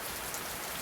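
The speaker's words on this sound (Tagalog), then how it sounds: "Lakas na lang ulan dito." Heavy rain pours down in a dense, steady hiss that fills the whole moment, loud and close with no voices.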